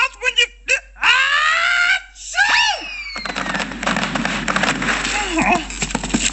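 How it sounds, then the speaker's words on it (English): Grover, the Sesame Street Muppet, builds up with rising vocal gasps and then lets out a loud, explosive sneeze, followed by a noisy rush of breath and sputtering. "Sneeze? Anybody got a tissue?"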